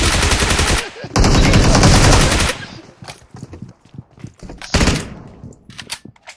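Rapid automatic gunfire bursts from a shooter video game, loud and close, with a dense volley followed by scattered quieter shots and another short burst.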